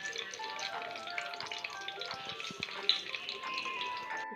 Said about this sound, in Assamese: লং, ইলাচি, ডালচেনি, তেজপাত এই সকলোখিনি দি দিম। এতিয়া মই অলপ ৰঙচুৱা হোৱালৈকে লৰাই থাকিব।